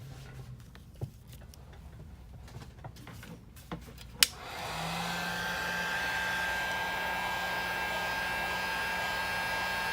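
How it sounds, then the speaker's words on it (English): A heat gun warms an iPhone 7 Plus screen: after a few small clicks and taps, it switches on about halfway through and blows in a steady, loud, close whooshing roar with a faint whine until the end. "you can use heat gun, okay, to heat up from the right here"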